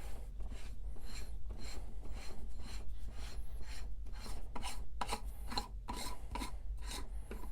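The threaded top of a Turin DF64 coffee grinder is turned counterclockwise, giving a steady rasping, scraping rub in repeated short strokes, close and fairly quiet, with no talking.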